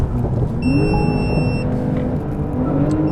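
A Porsche 911 Turbo S engine roars steadily and climbs in pitch as the car accelerates hard from a standstill, loud and close throughout.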